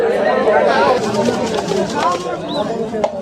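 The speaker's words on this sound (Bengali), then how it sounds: "সকল কবুতরগুলো আমি আপনাদের মাঝে দেখাচ্ছি" Pigeons coo at a busy pigeon market, soft bird calls mixed into a constant murmur of people talking nearby.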